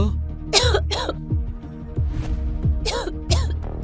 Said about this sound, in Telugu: ఆమె చలికి దగ్గుతుంది